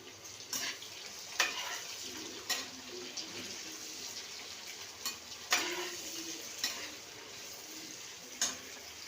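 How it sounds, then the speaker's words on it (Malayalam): Sliced onions fry in a pan with a soft sizzle while a spoon stirs them, making scraping knocks at irregular intervals over a quiet background. "സബോള ഇട്ട് കഴിഞ്ഞു. നമുക്ക് ഇളക്കി കൊടുക്കാം."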